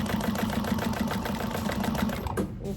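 Sewing machine stitching bag gusset pieces together along a short edge, a steady, loud, close mechanical whir with fast regular needle beats that stop abruptly near the end.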